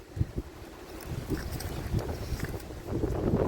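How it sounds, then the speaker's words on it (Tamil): Strong coastal wind buffets the microphone near fishing boats and nets, gusting roar with low rumbling bursts building toward the end. "காற்று வேறு உரமாக இருக்குது"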